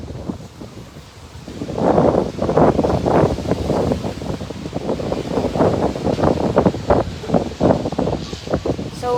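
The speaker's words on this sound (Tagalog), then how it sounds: "rong ray karon nga hangin kita na rong mabaskog no karon nga oras" Strong typhoon wind buffets the microphone in loud, gusting bursts, with rustling and a rough rumble underneath.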